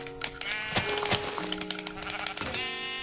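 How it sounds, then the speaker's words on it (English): Game-style sheep bleats in a Minecraft-like blocky world, several short nasal calls scattered over a few seconds among clicky keyboard-like taps, fairly close and clear with no talking. "Come here, sheep. I need your wool."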